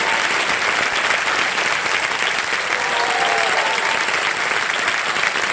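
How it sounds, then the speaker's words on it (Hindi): Loud, dense studio audience applause on an Indian television quiz show, continuous and even throughout with a steady roar of many hands. "जोरदार तालियां बज जाए इनके लिए।"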